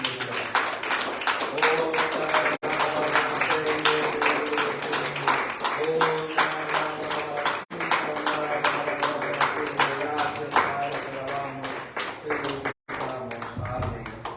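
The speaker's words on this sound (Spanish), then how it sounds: "Puedes darle un fuerte aplauso a Cristo" A church congregation at a Spanish-language Sunday morning service claps in a steady, rhythmic pattern for several seconds, the clapping layered over tonal music that continues beneath it.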